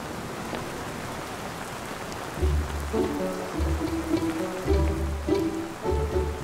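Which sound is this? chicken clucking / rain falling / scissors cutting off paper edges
rain falling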